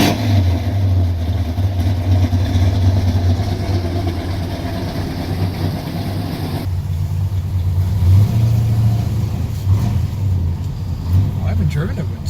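A car with a newly fitted clutch is driving along, and its engine gives a steady low drone that swells slightly in places. The drone runs throughout under a person talking.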